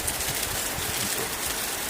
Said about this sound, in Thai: เทศบาลนครขอนแก่นฝนตกหนักนะครับ